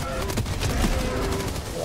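A rapid burst of heavy cannon fire from Helldivers 2 during a bug breach defense, with loud, dense overlapping shots and booms packed close together across the whole stretch.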